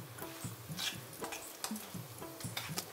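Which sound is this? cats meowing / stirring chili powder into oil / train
stirring chili powder into oil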